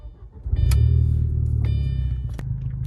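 A car with a manual gearbox cranks and fires up with the clutch pedal held down, then settles into a steady, close, low idle rumble with a few faint clicks on top.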